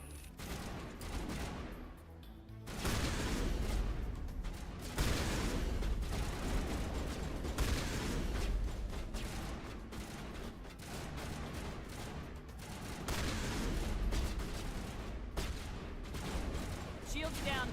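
Shotgun blasts and other weapon fire from a Mass Effect battle boom and crackle continuously, loud and busy, with spoken voices mixed in at times.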